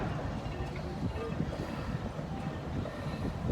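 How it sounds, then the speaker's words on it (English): A 7-horsepower Marshall steam traction engine runs in a grand vintage-machinery parade at Lake Goldsmith, giving a steady, fairly close low rumble and churn with no talk. "Marshall traction engine, 7 horse."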